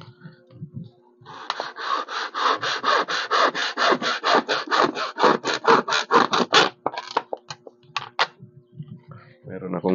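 A blade cutter sawing through an empty plastic bottle, with a rapid run of close, rasping strokes that then slows into scattered scrapes. Someone talks briefly at the start and the end.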